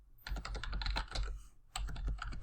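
A password is typed on a computer keyboard during Windows Server 2016 setup: a quick, close run of light key clicks, pausing briefly mid-entry before a second burst of rapid keystrokes.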